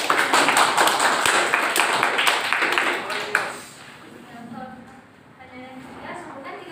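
Hands clap together in a group for about three seconds as brief applause in a classroom-style religious lesson, then the noise fades into a quieter room with faint tones and background sound.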